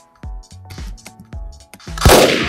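Several gunshots from a Roblox game ring out in quick, uneven succession, sharp and close, followed by a louder burst near the end, with no talk over them.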